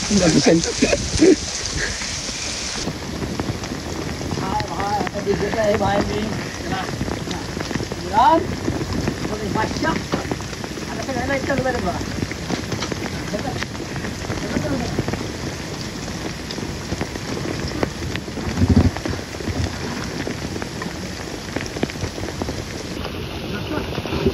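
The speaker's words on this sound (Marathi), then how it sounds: "पाऊस चालू झालेला आहे." Steady, dense rain pours throughout during a motorbike outing in a downpour, a constant close hiss with voices talking over it at times.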